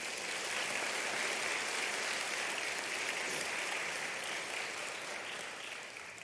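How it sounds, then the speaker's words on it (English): An audience applauds fifth grade graduates at a school graduation ceremony, a sustained, dense clapping that holds steady and then tapers slightly toward the end. "Please give them a round of applause."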